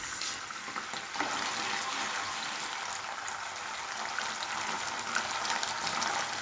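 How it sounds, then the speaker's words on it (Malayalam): Half a teaspoon of mustard seeds spluttering in hot oil for a green chilli pickle, a continuous close sizzling hiss dotted with small pops, with no talking. "കടുക് പൊട്ടി വന്നപ്പം"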